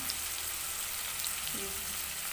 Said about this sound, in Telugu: వీటిని మనము బాగా ఫ్రై చేసుకోవాలి